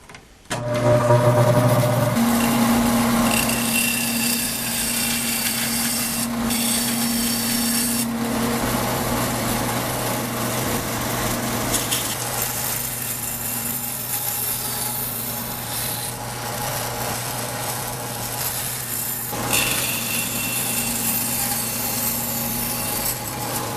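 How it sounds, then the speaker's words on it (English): A bandsaw cuts wooden burr puzzle pieces, a loud steady rasping whine that keeps going for over twenty seconds, its pitch and grit shifting as the blade works through the wood, with no voices. "let's head on over to the bandsaw, and we're going to cut these exactly how we did the smaller puzzles."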